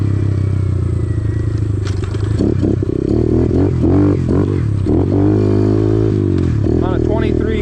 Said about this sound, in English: On a 23 KLX110 with a big Gun EVO pipe, big bars, aftermarket carburetor all jetted up to the pipe correctly.